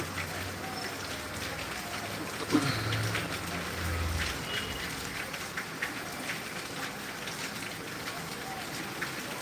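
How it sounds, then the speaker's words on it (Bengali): Heavy rain falls in Tangail, Bangladesh, as a dense, steady hiss of downpour that stays even and fairly close throughout, with faint low rumbles and murmurs underneath. "টাঙ্গাইলে প্রচণ্ড বৃষ্টি এখন আস্তে আস্তে একটু বৃষ্টি কমতেছে"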